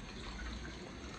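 A steady, soft rush of water pours continuously into rice stuffing for chicken, close and fairly quiet, with no voices.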